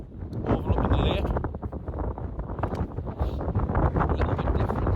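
Strong wind buffets the microphone beside a small lakeside tarn in the Lake District, a constant loud roaring rumble with gusty swells throughout.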